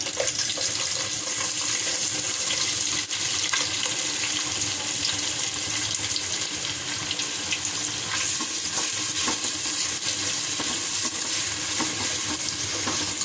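A cup of onions frying in cumin-tempered oil for mutton bhuna with cabbage, making a loud, dense, continuous sizzle that runs unbroken from start to finish.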